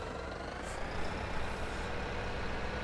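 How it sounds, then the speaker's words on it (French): A tractor engine drives along in Farming Simulator 17, a steady mid-level mechanical drone with a faint higher whine running evenly throughout. "Ludo, il se balade en tracteur, tranquille"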